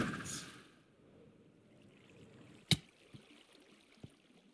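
Rushing river rapids in the ScratchCraft video game pour and trickle steadily at low level, with one sharp click near the middle and a couple of softer knocks later.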